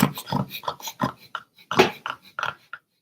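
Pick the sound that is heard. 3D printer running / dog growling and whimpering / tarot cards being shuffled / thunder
dog growling and whimpering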